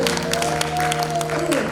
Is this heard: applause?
yes